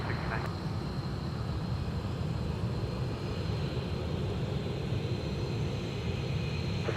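A FedEx feeder ATR turboprop at MSP airport, a steady droning engine hum with a faint high whine, constant and fairly distant, no talking.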